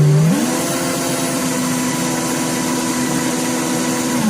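Loud, steady whir of a power drill spinning up, with a rising pitch at the start, then a constant high hum that holds for several seconds before winding down at the end, with no talk.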